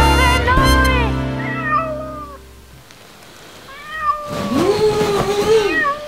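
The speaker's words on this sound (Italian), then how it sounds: "Che palle fa questo gatto!" A domestic cat meows loudly and repeatedly up close, its drawn-out wavering cries coming in two bursts separated by a quieter pause.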